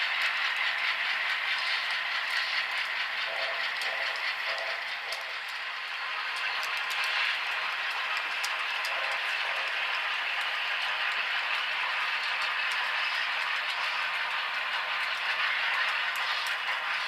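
Train 54, an HO scale model train on the East Raton and Santa Fe Railroad layout, backs down toward a freight house. It gives a steady, fairly quiet rattle and clatter of small wheels on track throughout, with no talking.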